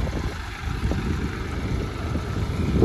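A Swaraj 744 XT tractor with 14.9-28 rear tyres runs its engine at a steady low rumble, fairly close and gradually building louder toward the end, with some wind noise.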